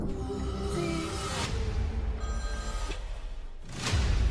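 A phone rings in a scene from the horror series Chucky, a steady electronic ringing with a dense musical score beneath it that swells louder toward the end.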